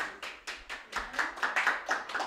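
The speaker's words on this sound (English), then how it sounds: "Can we have another round of applause?" Applause from a small audience at an evening Green Kill Sessions performance: fairly quiet, fairly steady rounds of claps with no voices over them.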